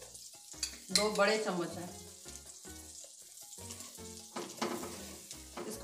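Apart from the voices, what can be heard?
flour sizzling in melted butter in a pan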